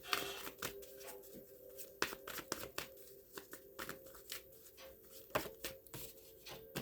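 Playing cards being shuffled and riffled quietly in a series of brisk crackling bursts and soft slaps, close by at low volume with no talk.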